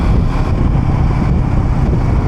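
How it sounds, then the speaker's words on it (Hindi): Motorbike riding on a smooth road, a steady engine rumble mixed with heavy wind buffeting against the microphone, loud and continuous throughout with no talking. "अभी बाइक इतनी स्मूथ चल रही है ना, ऐसे ही स्मूथ चलती रहे"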